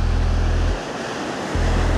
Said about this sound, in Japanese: あーちょっとまだ波がきついかな。